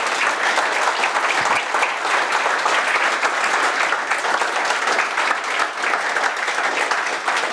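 Loud, dense applause from a meetup audience, many hands clapping continuously and close for several seconds with no talk over it.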